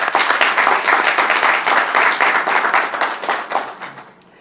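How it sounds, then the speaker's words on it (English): Dense audience applause at a community gathering, many hands clapping steadily and close for about three seconds before thinning out and fading. "help me give them a round of applause"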